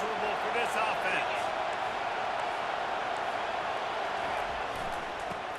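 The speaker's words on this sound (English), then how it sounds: "This crowd trying to make life miserable for this offense." A football stadium crowd roars in a steady, dense wash of noise throughout, loud and sustained with faint shouts, while a commentator talks over it.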